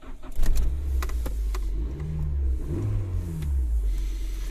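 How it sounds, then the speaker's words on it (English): A 1994-1997 Toyota car engine cranks and catches, then idles with a low rumble and a couple of light revs rising and falling, fairly close and clear. "So we're gonna turn the car actually on."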